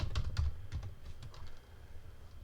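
Quick typing on a computer keyboard while writing code, a short burst of close, rattling key clicks over a low room rumble, easing off toward the end, with no voice.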